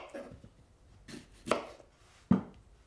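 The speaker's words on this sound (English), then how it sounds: "So we'll just peel and chop the pears now." Pears being peeled and chopped in a kitchen, a few separate knife strikes on a cutting board, mostly sparse with two sharper chops toward the end.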